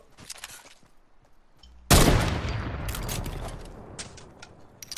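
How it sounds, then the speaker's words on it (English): Gunfire in Fortnite erupts after a quiet stretch of faint clicks: a sudden loud burst of rapid shots, then more scattered cracks and bursts fading over several seconds. "Did you just shoot at me, Marcus?"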